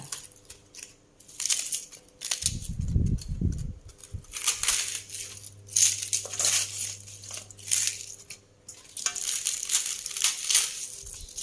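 Cabbage torn into pieces by hand, producing irregular close bursts of crunchy snapping, crinkling and rustling, separated by short quiet pauses.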